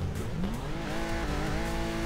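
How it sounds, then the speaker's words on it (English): Supercharged, custom-built Nissan S14 drift car running hard, its engine note loud and continuous with rising revs and faint tire squeal, no talking. "If you haven't noticed by the sound, it is supercharged S14, full custom now"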